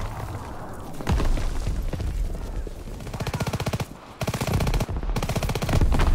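Call of Duty WW2 combat with rapid machine gun bursts and scattered single shots, loud and close, broken by brief pauses and a few heavier thumps.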